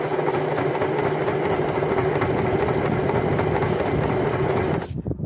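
A household sewing machine, a light-duty home model, runs steadily with a fast rhythmic clatter and motor hum, close and continuous for several seconds before abruptly stopping.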